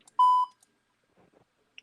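On a phone call, a single clear electronic beep sounds loud and steady for about a quarter second, followed by faint scattered noises and quiet.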